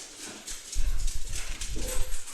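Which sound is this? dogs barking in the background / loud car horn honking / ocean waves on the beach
dogs barking in the background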